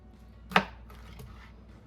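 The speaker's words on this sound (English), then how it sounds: "So you can cut them up into any size shape that you want" A single sharp knife chop through pineapple on a cutting board during canning preparation, one crisp close thunk followed by quieter faint handling.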